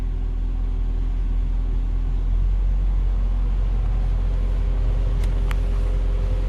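A Jaguar XJR car with a pump motor circuit fault runs at a steady idle, giving a continuous low engine rumble with no speech.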